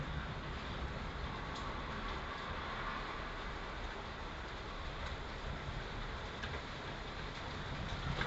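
Dense, even hiss of steady video game rain pours throughout, with faint scattered ticks on top and no voices.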